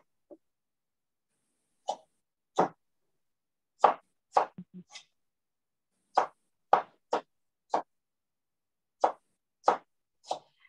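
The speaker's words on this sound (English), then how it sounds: "And I'm gonna julienne the rest." A knife cuts an apple into julienne strips, giving about a dozen short, crisp taps with irregular pauses. The taps are close and quiet against silence.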